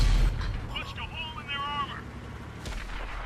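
A tank cannon fires in World of Tanks on Xbox One. A loud, deep boom opens the clip and fades into a rumble, a tonal whine follows mid-clip, and a second low thud comes near the end.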